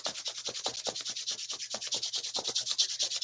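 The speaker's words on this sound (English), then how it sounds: "you can rub your hands together and create some warmth in your palms" Palms rubbed briskly together during a seated meditation, a quick even back-and-forth swishing of skin, around a dozen strokes in steady rhythm, close and alone with no voice.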